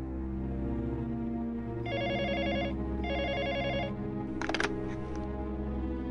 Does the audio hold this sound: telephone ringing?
yes